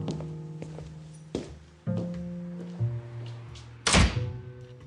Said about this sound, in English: Just pull the door on your way out